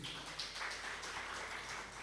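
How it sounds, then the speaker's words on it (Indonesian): A church congregation gives a sustained, soft applause that stays steady and somewhat distant throughout, with no one speaking. "Berikan tepuk tangan buat Tuhan Yesus."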